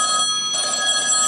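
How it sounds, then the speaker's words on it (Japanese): A telephone rings loudly and close by, a steady electronic bell tone that continues through the moment without any voices. "電話です。"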